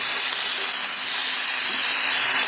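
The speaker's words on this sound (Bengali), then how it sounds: "তো ফ্রেন্ডস এটা ভাজা ভাজা হচ্ছে, দেখতেই পাচ্ছেন।" Mixed vegetables fry in a small amount of oil, making a loud, even, unbroken hiss that carries on steadily with no voices.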